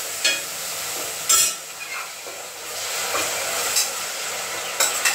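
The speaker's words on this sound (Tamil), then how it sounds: "சேர்த்துட்டு இதை நல்லா வதங்கட்டும்" Onion, tomato and ginger-garlic paste sauté in oil for a meal maker gravy, giving a steady, moderately loud hiss with a few sharp clinks and scrapes from a utensil.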